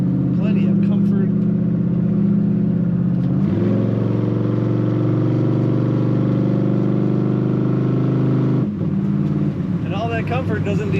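A 1940 Pontiac 5-Window Coupe street rod engine revs up and holds a loud, rising drone, with people talking before and after the acceleration.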